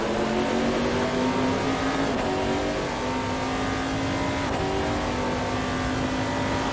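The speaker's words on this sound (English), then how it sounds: "this car is so enjoyable to drive on the limit" In a racing video game at Sveg Raceway, a race car's engine howls steadily near full throttle, its pitch rising and dipping slightly through shifts and corners, loud and uninterrupted.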